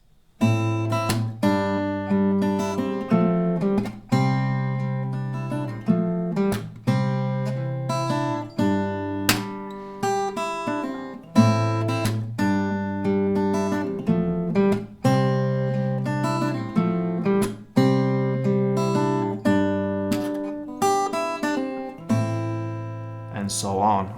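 Strummed acoustic guitar plays the chord progression of a song at a standard tempo, each chord rung out in a steady rhythm over several rounds, heard close and alone.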